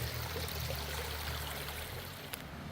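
Ashland Creek in Lithia Park rushes and splashes in a steady, loud, continuous wash of flowing water with no voices.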